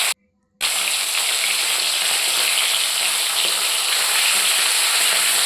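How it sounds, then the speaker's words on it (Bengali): Fish dropped into hot oil fries with a strong, continuous loud sizzle that bursts in after a brief silence and holds steady to the end. "তেলটা গরম হয়ে এসছে এবার আমি মাছগুলো দিয়ে দেব"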